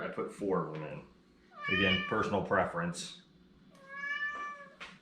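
A pet cat meows in a home kitchen while someone talks through banana bread preparation; a couple of drawn-out meows, the clearest one alone near the end, close by and moderately loud.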